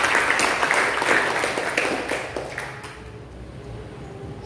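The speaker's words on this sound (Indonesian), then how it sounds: "Kasih tepuk tangan itu." A church congregation claps together in a burst of applause that starts strong, then thins and fades out over a few seconds.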